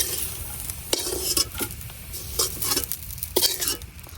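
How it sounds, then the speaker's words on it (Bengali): Onion and garlic fry in a hot pan, a broad crackling sizzle broken by repeated scraping stirs at an uneven rhythm, close and fairly loud, with no voices. "পেঁয়াজ আর রসুন গুলারেও ভালো করে বাজিয়ে নিয়াম"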